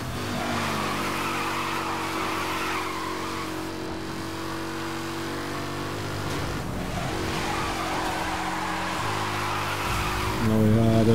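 A Mercedes AMG drives hard in the racing game Need for Speed Hot Pursuit, with a steady loud engine drone and tire skidding throughout, and a sharper squeal rising near the end.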